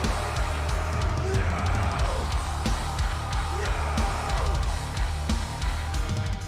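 Dense, heavy metal music by a French band, with pounding drums and thick distorted guitars, plays loudly and continuously throughout.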